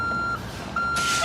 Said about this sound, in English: Okay, Bart, back up the truck.